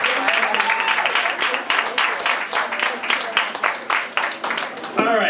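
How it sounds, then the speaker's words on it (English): A large round of applause from a festival panel audience fills the room steadily for several seconds, dense and loud, with a voice briefly emerging near the end. "So, huge round of applause."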